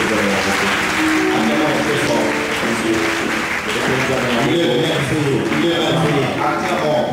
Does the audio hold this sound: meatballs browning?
no